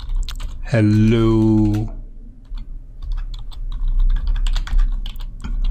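Typing on a computer keyboard while setting up a console app in the Visual Studio IDE: a run of quick, light key clicks following a short spoken word, continuing steadily and close up.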